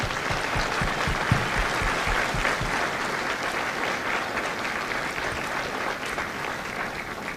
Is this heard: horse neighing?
no